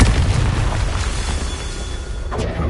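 A Confringo blasting spell goes off in a wizard video game, one loud, deep rumbling explosion that rolls on and slowly fades across the short stretch.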